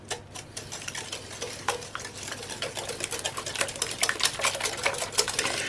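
Five eggs are whisked with sugar by hand, a quick, rhythmic clatter of the whisk against the bowl that grows louder and faster as it goes on.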